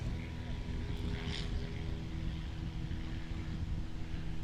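A STOL airplane at full power on its takeoff roll at an airshow competition practice, giving a steady, loud propeller-engine drone throughout with no talk.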